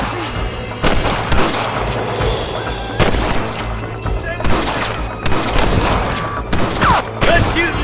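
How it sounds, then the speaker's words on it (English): Gunfire crackles through a shootout in the video game Red Dead Redemption, with repeated sharp shots and bursts in irregular volleys, loud and close, with shouting voices mixed in. "Good shooting, boy!"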